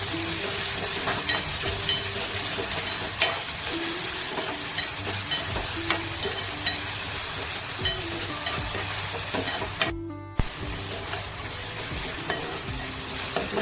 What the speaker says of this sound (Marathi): त्यानंतर आपल्याला कढीपत्ता टाकायचा आहे. 2-3 मिनिट मस्त परतवून घेऊया.